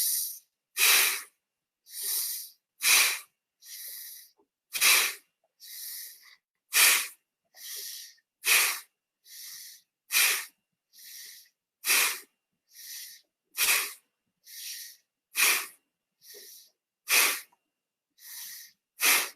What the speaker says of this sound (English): All right, 15 breaths. Through the nose, belly going out on the inhale.